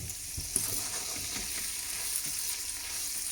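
Chickpeas fry with a tablespoon of black sesame seeds in a pan, giving a steady, close sizzling hiss with faint stirring clicks throughout.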